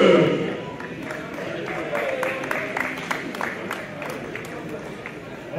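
Scattered audience applause at a sports award ceremony for adapted-sport athletes, moderate clapping with crowd murmur and an announcer speaking over it.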